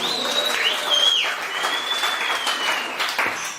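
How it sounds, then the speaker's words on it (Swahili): Church congregation applauding for Jesus during a Swahili sermon, a steady dense wash of clapping that holds for the whole span, with faint voices and a brief vocal line riding over it. "Pigia Yesu makofi"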